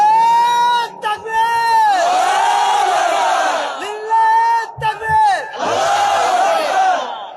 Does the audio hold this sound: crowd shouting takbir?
yes